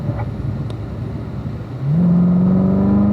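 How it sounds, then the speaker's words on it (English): A race car on a track accelerates up through the gears toward fifth, its engine note droning steadily, then climbing into a loud, sustained rising whine that dominates the close, continuous roar. "accelerating up to 5th gear"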